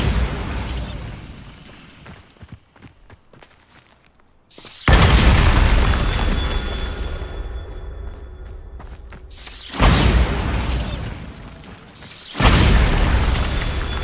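Bombarda explosion spells cast in Hogwarts Legacy, several heavy booming blasts with deep rumbling tails, loud and close, separated by short quieter gaps of crackle and ambience.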